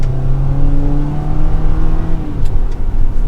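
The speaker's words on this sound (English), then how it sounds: "Let's get it to some speed, feel out the 4-cylinder." A 2022 Jeep Compass Trailhawk's 4-cylinder engine accelerating, heard loud from the cabin as the drone climbs, steps down at a gear change, and continues without any talking.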